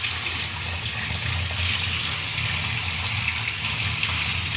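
Water draining away from freshly washed chhana (vinegar-curdled cottage cheese) being prepared for makha sandesh, a continuous close trickling and splashing that runs at a fairly even, moderately loud level.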